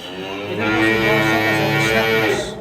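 A seven-month-old bull calf on a dairy farm gives one long, loud moo up close, rising and holding before fading out.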